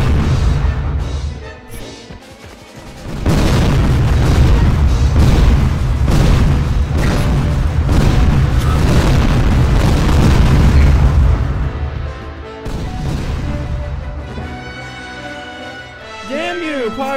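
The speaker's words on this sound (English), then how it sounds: "Look at my mighty cannons, which are mighty." Heavy booming blasts roll out in a dense barrage, loud and close, with a deep rumbling low end; the burst fades to scattered thuds near the end.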